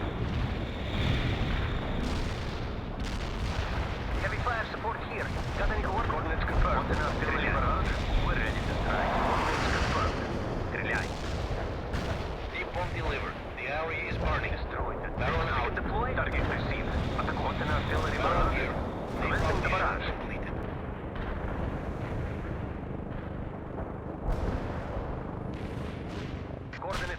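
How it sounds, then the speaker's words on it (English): Napalm strike explosions in the video game World in Conflict, a sustained roar of rumbling blasts and crackling fire mixed with distant gunfire, continuous and loud throughout. "Napalm is primed and inbound."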